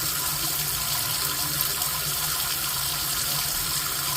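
Water runs steadily and hisses through the pipes of a newly installed electric water heater, a constant close rush with no pauses.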